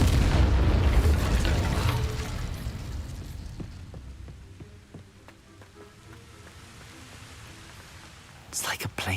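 The Incendio fire spell cast in the video game Hogwarts Legacy, a loud whooshing burst of flame that fades into a crackling sizzle. A voice speaks under it.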